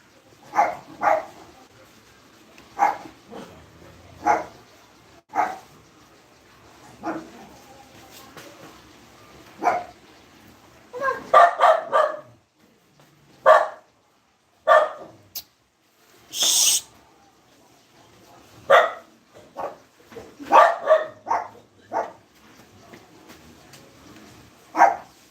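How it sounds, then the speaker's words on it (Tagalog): Noisy dogs bark again and again in sharp, irregular bursts, some isolated and some in quick clusters, loud and close with quieter gaps between. "Paano yung mga maingay ang aso?"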